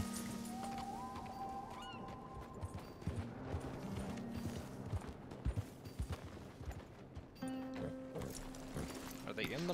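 Horse hooves clip-clopping in Red Dead Redemption 2, a steady rhythm of hoofbeats under someone talking, with other ambient sounds and honk-like calls mixed in.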